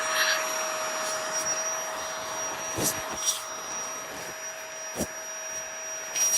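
Small battery-powered electric air pump inflating a Zen Bivy sleeping pad inside a hot tent, a steady close whirring drone running the whole time with a few faint clicks and bumps over it.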